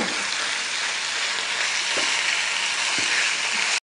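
Minced meat with ginger fries in a pan for a stuffed mince dish, giving a steady, close, loud sizzle throughout with a few faint scraping stirs and no talking.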